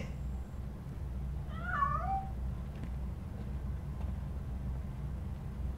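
A cat in the video game Robocop Rogue City gives a short run of rising and falling meows midway through, moderately close, over a steady low background hum.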